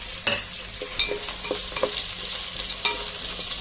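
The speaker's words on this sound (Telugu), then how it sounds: "ఇలా వేయించున్నప్పుడే మనం మసాలా దినుసులు వేసుకోవాలి" Onions, green chilies and whole spices fry in a pan for mutton biryani, giving a steady close sizzle with sharp stirring clicks and scrapes at irregular intervals, no voices.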